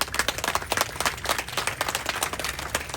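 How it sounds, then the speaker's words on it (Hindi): Crowd applause for bravery medal winners at an ex-servicemen rally in Pokhara, dense steady clapping from many hands throughout, close and lively. "सबैजनाले यी बहादुरी पदक विजेताहरूलाई ताली बजाउँदै सम्मान गरिदिनु होला।"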